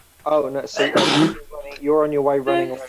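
A single sharp sneeze bursts out near the middle, loud and close, set between stretches of conversation.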